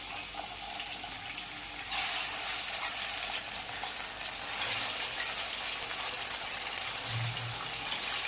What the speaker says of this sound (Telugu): నూనెలో బాగా వేగాలి.